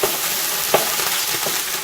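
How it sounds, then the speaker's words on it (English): Stir fry sizzles in a Goodman's multicooker on medium heat, a constant close hiss with a few soft stirring knocks and scrapes. "I'm just going to keep stirring it."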